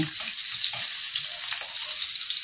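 Garlic sizzles in hot oil in a pan for a spicy chicken ribs adobo, a steady close, bright hiss with small crackles running throughout.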